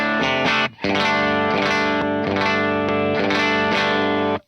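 Electric guitar played through a Lauren Audio Mustang pedal on its first gain stage, with a hint of grit and added top-end presence: ringing chords with a chorus-like shimmer and a brief gap, loud and alone.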